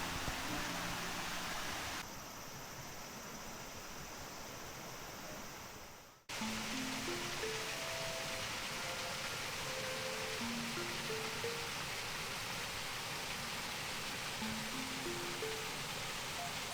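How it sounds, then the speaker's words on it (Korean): Continuous rushing water from a mountain valley stream on Dobongsan near Munsadong Falls fills the air, a steady broadband wash with faint birdsong chirping over it. "계곡 물소리를 따라 계속 위쪽으로 걸어갔어요"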